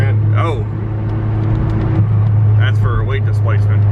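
Steady traffic on a busy highway seen from a moving vehicle, with a constant low engine and road drone and cars passing close by, while people talk over it.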